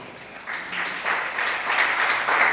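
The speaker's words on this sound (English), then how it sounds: "Let's clap for Jesus." A church congregation claps, the applause starting thin and swelling into a steady, building patter of many hands over a couple of seconds, close and without speech.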